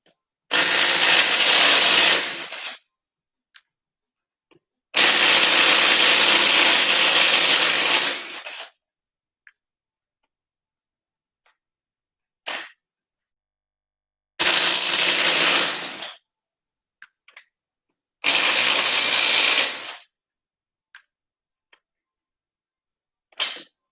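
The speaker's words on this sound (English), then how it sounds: "I highly recommend one of these little cordless impacts. This is a 1/4 inch. It gets my lug nuts off just fine for me." A small 1/4 inch cordless impact wrench zips off lug nuts in four loud, close bursts of two to three seconds each, with brief clicks and silence between them.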